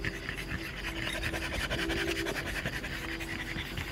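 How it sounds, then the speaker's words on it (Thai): Three dogs panting together outdoors on a first walk, a fast steady huffing rhythm, close and continuous throughout, with no talk. "อะไรเนี่ยมาหอบแฮกแฮกกันทำไมเรียงกันเสียสามตัวเนี่ย"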